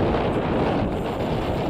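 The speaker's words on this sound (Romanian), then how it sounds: "bate vântul foarte puternic" Very strong wind blasts across the microphone at a parachuting airfield in Bacău, Romania, a dense continuous roar close up with no speech.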